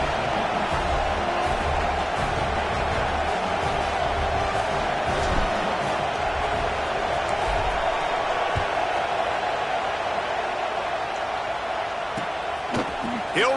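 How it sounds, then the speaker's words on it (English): A football stadium crowd keeps up a broad, steady roar, with a commentator talking over it and a few sharp thumps near the end. "that last score took a little oomph out of this crowd"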